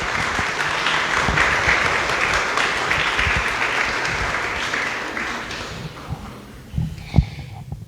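An audience at a cultural talk applauds steadily for several seconds, a dense patter of clapping that thins toward the end with a few isolated claps.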